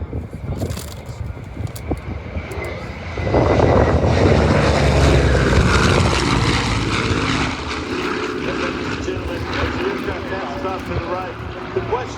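A Chinook helicopter at a demonstration builds into a loud rotor and engine roar as it passes, then fades a little while staying strong, with people talking nearby.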